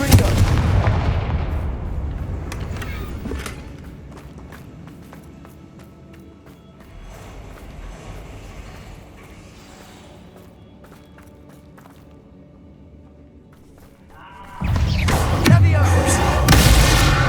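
Confringo fire spell explosions in Hogwarts Legacy, played on PS5: a loud booming blast at the start fading into a rumbling tail, then quieter crackling, and a second heavy burst near the end.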